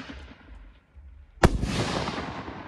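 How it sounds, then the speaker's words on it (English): A Shining Crown shell from an Excalibur Platinum canister set bursts with one sharp, loud crack after a brief quiet lull, followed by a long crackling, hissing decay as the orange and pink effects spread. "Our first shell is gonna be the Shining Crown with orange and pink."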